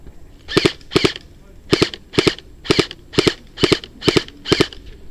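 Airsoft guns firing in sunny outdoor woodland play, a steady run of about nine sharp paired shots spaced roughly half a second apart, loud and close with faint background noise between bursts.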